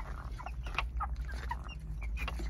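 Sick native chickens with flu and watery eyes cluck and chirp in short bursts nearby, against a low steady rumble of background noise.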